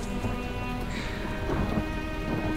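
Heavy rain pours down as a radio drama sound effect, a dense steady hiss of falling water with low rumbling underneath, and no voices.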